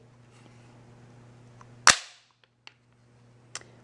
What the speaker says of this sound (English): So I'm going to release the bolt.